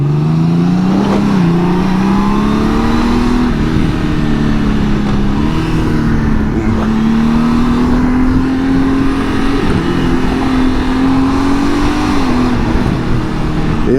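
Motorcycle engine revving steadily while lane splitting through traffic on a very cold day, a loud continuous drone rising and falling in pitch for the whole stretch, close to the rider with no talk.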